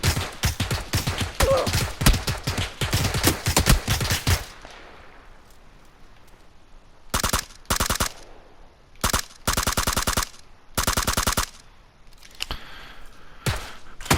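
Rapid automatic gunfire from a PUBG weapon recoil test on PS4: a long, loud sustained burst of shots, then several shorter separate bursts with quiet gaps between them, and no talking.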